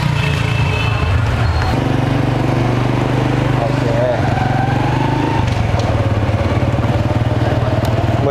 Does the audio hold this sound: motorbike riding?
yes